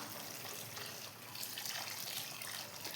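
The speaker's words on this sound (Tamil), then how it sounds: "தேங்காய் பால் ஊற்றியாச்சு." Coconut milk pours steadily into a pot, a soft continuous splashing trickle heard close by.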